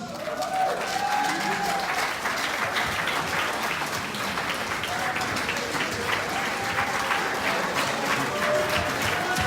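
Big sustained round of applause from a town hall audience for standing Biafran veterans, dense steady clapping throughout with faint cheering voices mixed in.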